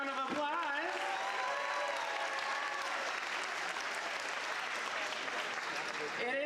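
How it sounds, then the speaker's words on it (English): A graduation audience applauds the superintendent of Horizon Science Academy Toledo, sustained dense clapping from a large crowd throughout, with a voice speaking briefly at the start. "Let's give him a round of applause."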